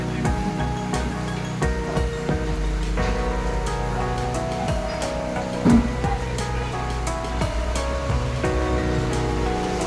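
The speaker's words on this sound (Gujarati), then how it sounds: "જો તમને બહુ બધો વરસાદ દેખાય છે" Steady rain patters across a farmhouse, with a wash of water noise and a few sharper knocks and clatters mixed in.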